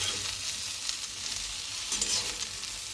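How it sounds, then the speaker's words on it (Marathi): Cluster beans (gavar) frying in hot oil in a home kitchen, a steady soft sizzle with faint crackles and occasional stirring, no voices. "गवार सध्या अशी तेलात परतून घेतले ना की चवीला खूप छान लागते बघा"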